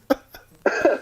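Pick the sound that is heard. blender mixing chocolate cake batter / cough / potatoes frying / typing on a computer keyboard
cough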